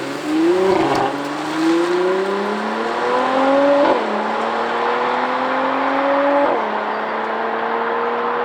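A Mercedes-AMG GLC 43 Coupé in Sport Plus accelerates hard, its engine note rising steadily through several gears with sharp drops at each upshift, loud and close from inside the cabin, with no talk.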